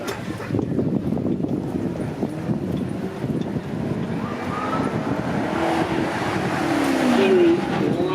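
A Maserati GranCabrio Sport with a 4.7 litre V8 snarls from its exhaust during a supercar run at Beaulieu, a steady engine drone under outdoor wind noise that swells louder toward the end.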